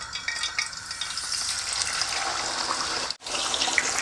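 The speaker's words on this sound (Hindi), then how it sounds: "तो ऑयल गर्म हो गया, अब हम चिकन को ऑयल में रखेंगे" Chicken pieces frying in hot oil on medium flame, a dense continuous sizzle and crackle heard up close with a brief dip partway through.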